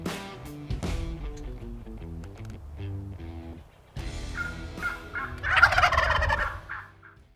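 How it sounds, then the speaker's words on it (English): A wild turkey gobbles loudly during a spring hunt, the rattling calls bursting out over a background of layered music with another gobble trailing later. "there are still other birds gobbling in the area"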